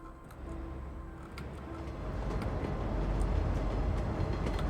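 Train rolling past in Cities: Skylines II, a steady rumbling rail sound that swells gradually louder over a few seconds, with faint clicks on top and no talking.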